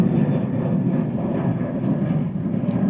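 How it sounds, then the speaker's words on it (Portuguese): An airplane passes overhead outdoors, a steady broad engine roar that holds constant and fairly loud throughout, with no speech over it. "Ô, avião, não sei se vocês estão escutando, calma, um pouquinho. Vai embora, avião."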